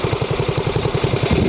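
A 1948 Ariens tiller engine running at part throttle, a fast steady thumping putter with even pulses, loud and close.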